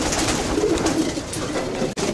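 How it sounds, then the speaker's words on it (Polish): Pigeons cooing in a steady, overlapping murmur close by, a soft throaty rumble that continues throughout with no talk. "To jest gołąb"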